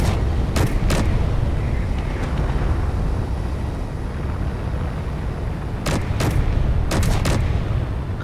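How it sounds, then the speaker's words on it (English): Large guns fire in the Space Engineers game, sharp cracking shots in quick pairs early on and a rapid burst of several near the end, over a constant loud rumbling engine drone. "Ooh, something's got big boy guns."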